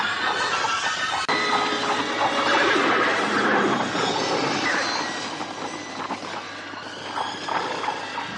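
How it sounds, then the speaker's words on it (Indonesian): Dozens of horses gallop through a forest, with a dense, loud rumble of hooves and neighing throughout. It plays as a sound effect in a radio drama. "Maka tidak lama derap puluhan ekor kuda pilihan merambah hutan belantara."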